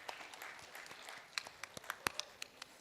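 Scattered, faint clapping from an audience at a music show by a music academy in Pune, with a few sharper individual claps standing out irregularly over a quiet room.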